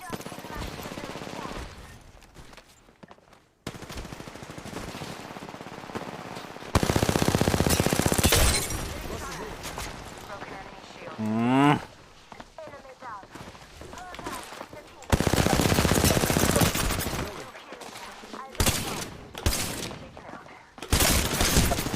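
Rapid bursts of video game gunfire crack out in clusters, loud and close, with sharper volleys and a brief rising whine in the middle, while a player talks over parts of the shooting.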